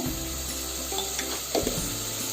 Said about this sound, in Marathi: आता हे पण आपण मसाला पण परतून घ्यायचा त्यांना.